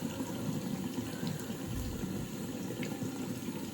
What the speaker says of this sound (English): put water on my face and then I just wash it